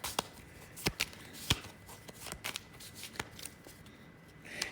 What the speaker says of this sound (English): I got to shuffle.